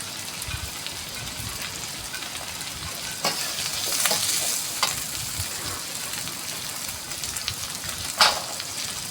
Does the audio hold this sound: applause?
no